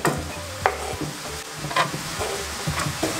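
Steady sizzling of chopped onion frying in butter in a pan, with occasional scraping knocks of a utensil stirring, a close, continuous crackle without any talking.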